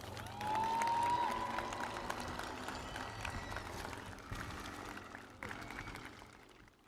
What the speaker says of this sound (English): So please give us a big round of applause